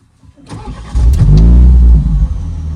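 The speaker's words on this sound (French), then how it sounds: "Et le moteur se met en marche." A Morgan Plus Four with a BMW eight-speed automatic starts up: a short starter whir, then the engine catches and settles into a loud, steady close-up run.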